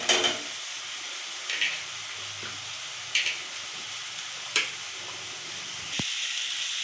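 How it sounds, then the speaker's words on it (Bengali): Boiled baby potatoes fry for alur dom while being stirred, a constant hiss and sizzle broken by several soft, regularly spaced scrapes of the spoon in the pan. "বন্ধুরা, একটু আলুর দমটা আমি একটু নাড়াচাড়া দিয়ে নেব।"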